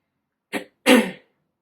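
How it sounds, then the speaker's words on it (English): Two throat-clearing bursts close to the mic, a short one followed by a longer, rougher rasp, with silence around them. "as I clear my throat"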